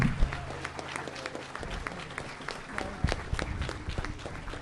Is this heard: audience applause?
yes